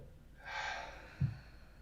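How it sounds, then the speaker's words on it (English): A person draws in a deep, airy breath, then releases a short low voiced exhale, close and quiet. "So it's a big, deep breath in, and then it's a verbal exhale."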